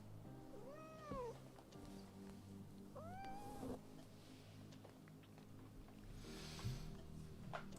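A cat meows twice with rising and falling cries, about two seconds apart, moderately close over a low background hum and faint clatter.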